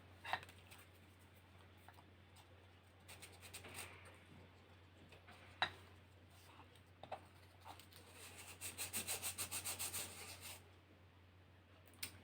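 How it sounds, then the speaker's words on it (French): Soft, close rubbing of a surface by hand, faint dry brushing strokes in uneven bursts with light ticks, a quieter stretch of faster repeated strokes near the end, over a low steady hum and no talk. "Je frotte délicatement."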